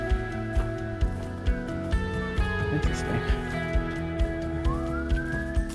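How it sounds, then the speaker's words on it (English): A siren wails in the distance, its tone sweeping upward over steady engine drone and rhythmic thumping, with a person briefly speaking, heard while hiking in Shenandoah National Park. "Here's a siren."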